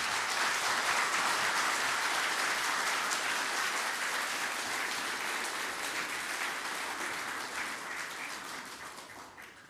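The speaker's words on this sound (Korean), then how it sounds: "모두 힘찬 박수 부탁드립니다." A large audience at a 2003 cultural-city report meeting in Gwangju attended by President Roh Moo-hyun breaks into sustained, loud applause, a thick continuous clatter of hands that tapers slightly toward the end, with no voices over it.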